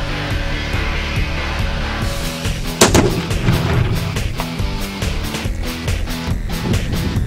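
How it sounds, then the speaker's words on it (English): A rifle shot strikes a one-pound steel star target, a single sharp report with a ringing impact, followed by echoing rumble and scattered later cracks outdoors. "One-pound target, shot two."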